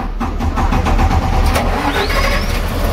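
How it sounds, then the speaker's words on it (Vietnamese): A Cummins N14 diesel engine on a fishing boat under repair cranks and fires up, a loud, steady rumbling roar with rhythmic pulsing that carries through the whole stretch, close to the listener, with no talking. "Bây giờ mình sẵn đề máy nha các bạn."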